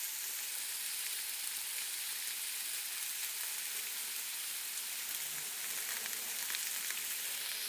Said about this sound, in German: So, brutzelt es.